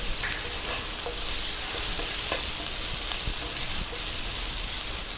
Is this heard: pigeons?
no